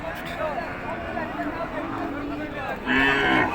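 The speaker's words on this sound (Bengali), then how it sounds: "এগুলো গরু বেচা কিনা হয়ে গেছে। বেচা কিনা হয়ে যাওয়ার পর এখানে রাখে বেঁধে।" Cattle at Pachbibi cattle market in northern Bengal, tethered after sale. Moos rise over steady crowd and speech murmur, and one loud, close bellow comes near the end.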